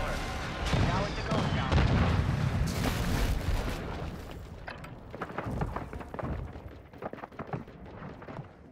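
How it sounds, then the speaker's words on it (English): Precision airstrike explosions in Call of Duty: Modern Warfare II: heavy booming blasts and rumbling impacts rolling on for several seconds, loud and dense at first, then thinning into scattered cracks and thuds, with game voice radio chatter mixed in. "Friendly precision airstrike inbound."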